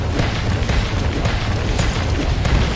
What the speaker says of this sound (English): An ally turret has been destroyed.